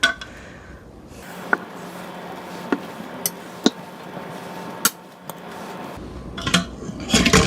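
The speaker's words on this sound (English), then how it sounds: "We're going to transfer these to a clean plate." Tongs lift pressure-cooked chicken drumsticks onto a clean plate, giving several sharp, separate metallic clinks and taps against the dish over a quiet kitchen background, with a busier cluster of clatter near the end.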